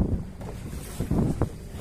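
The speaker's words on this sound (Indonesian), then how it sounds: "Ini ada ombak nih, karena ada lalu lintasnya kap bot yang masuk, yang datang berselisih gitu." Waves stirred up by passing boat traffic near Tumbar Island in the Riau Islands slap and wash close by with wind buffeting the microphone, heard under the hum of a boat.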